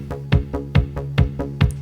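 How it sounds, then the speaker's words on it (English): An 80s-style electronic groove of a TR-707 style kick drum and a DX-sounding bass from a Volca FM synth, punchy kicks pulsing at a steady tempo under a bright plucky bass line, with no voices. "And then I also add another DX sounding bass from the Volca FM, which gives it a bit more spice."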